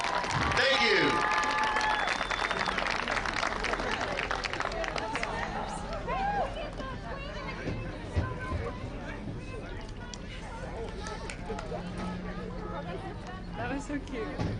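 Clapping from a crowd at a high school football homecoming rises and carries on for several seconds amid cheering and scattered voices, loud at first then settling into a steady patter.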